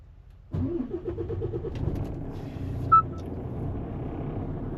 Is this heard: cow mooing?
no